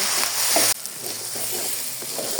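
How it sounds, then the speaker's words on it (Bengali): A masala of salt and turmeric fries in mustard oil for chicken kosha, giving a loud, continuous sizzle with the occasional scrape of a stirring spoon. "পরিমাণ মতো লবণ পরিমাণ মতন হলুদ মশলার সাথে ভালো করে মিশিয়ে নেব"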